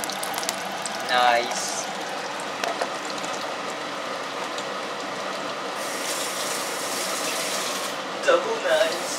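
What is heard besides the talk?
food frying in hot oil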